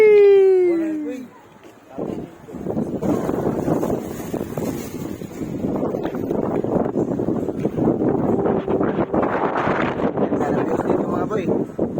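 Steady wind roars and buffets across the open water, with broadband rushing noise continuing throughout after a brief lull near the start.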